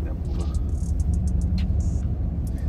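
A 525 PS V8 Land Rover Defender pulling hard off-road, with a deep, steady engine rumble close by and bumpy knocks of rough ground mixed in, under ongoing talk from inside the vehicle.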